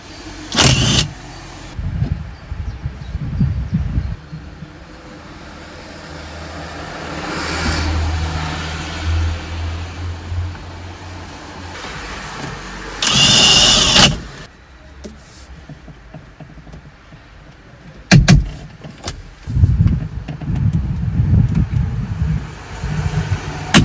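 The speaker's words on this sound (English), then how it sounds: "While the mighty diesel is doing its job" A BMW E46 diesel engine runs at a low, steady idle, with louder bursts of a car's power windows and interior clicks over the rumble.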